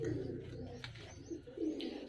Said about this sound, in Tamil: பறவை புறாக்கள் மட்டும் தனியாக இருக்கு